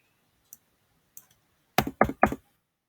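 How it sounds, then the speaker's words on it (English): A book knocks against a computer keyboard on a desk, making two faint isolated clicks and then three quick, louder clattering knocks, heard close up with no speech. "my book is hitting my keyboard and it's causing havoc here."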